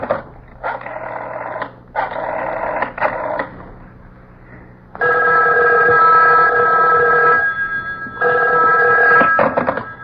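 An old-fashioned telephone bell rings loudly in a radio drama, in repeated long bursts separated by short pauses, close and alone with no talk.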